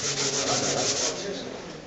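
Close, steady rubbing of 320-grit sandpaper across a varnished leather car seat during restoration, a continuous dry scratchy hiss.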